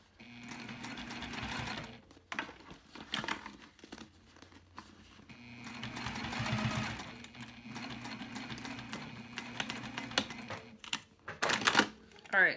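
A domestic sewing machine stitches a cork bag across a thick seam, running in close, rapid mechanical bursts that pause and restart, with a few clicks and handling noises in between.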